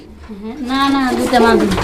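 Coloured Rajgolla pigeons coo in a low, rolling call that swells into a steady, close murmur over about two seconds, with a few overlapping voices.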